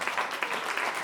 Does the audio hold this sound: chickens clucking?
no